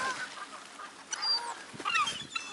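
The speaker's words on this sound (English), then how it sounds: "They're like mini Canadian geese." Geese and ducks at a waterside bird park giving short, scattered honks and quacks at moderate distance, fairly faint against open-air background.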